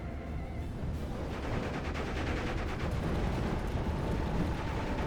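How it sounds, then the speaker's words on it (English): Artillery in Steel Division, with 120mm mortars striking nearby units, thuds and rumbles in a dense barrage of impacts and gunfire, loud and sustained, growing heavier after the first second. "You got a 120mm mortar hitting these nearby units."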